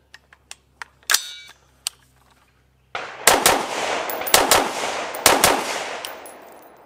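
Rifle shots fired in a recoil and double tap test, with a few light clicks and one sharp crack first, then several loud, close bursts of paired shots echoing for the last four seconds.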